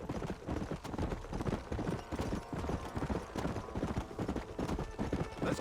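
Horse hooves clip-clop in a steady, quick rhythm in the video game Red Dead Redemption, the galloping beats close and continuous with no talk over them.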